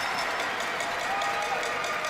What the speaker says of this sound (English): This is a playoff crowd.